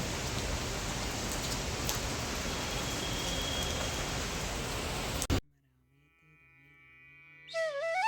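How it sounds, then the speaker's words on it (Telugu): Steady heavy rain roars for about five seconds, then cuts off abruptly into near silence before a short musical tone rises. "పెద్ద వర్షం అయితే పడిందండోయ్"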